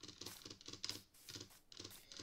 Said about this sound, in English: Sorry, this keyboard's so loud.